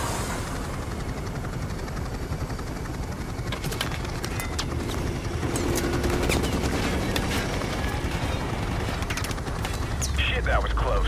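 Gunfire and bursts of automatic weapons crackle continuously through a Call of Duty 4: Modern Warfare firefight, dense and layered with scattered sharp shots over a rumbling battle bed, while radio chatter talks over it.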